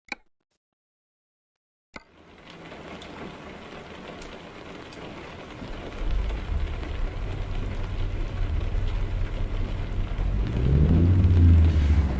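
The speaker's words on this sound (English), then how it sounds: "we would have a crappy rainy day here in Montana" Rain in American Truck Simulator on a wet day in Montana: after a short silence, a steady rainfall hiss starts, joined by a low engine or thunder rumble that grows louder toward the end.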